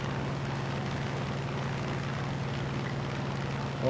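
A steady, droning F6F Hellcat piston engine in a flight combat video game, a constant propeller hum held at an even level with no talk over it.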